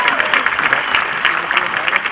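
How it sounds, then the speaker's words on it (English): An audience at a 2017 high school graduation ceremony claps for the graduates, a dense, steady wash of applause from a large crowd with no voices rising above it. "How about a round of applause for our graduates?"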